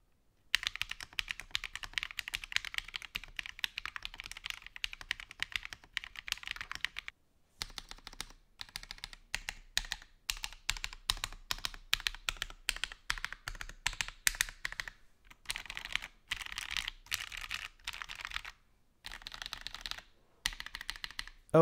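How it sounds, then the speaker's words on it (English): Steady typing on a FancyAlice66 mechanical keyboard in an Alice-style layout, a rapid run of sharp, uneven clacks close to the mic, with a few brief pauses between bursts. "There were certain keys that sounded sharper than others, and switching out keycaps and switches barely made a difference."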